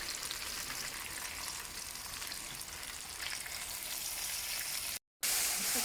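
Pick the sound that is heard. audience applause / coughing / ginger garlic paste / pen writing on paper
ginger garlic paste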